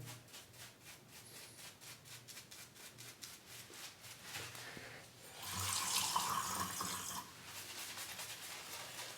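Tap water runs steadily into a sink, swelling briefly louder midway, while a shave is prepared with a brush, with no talking.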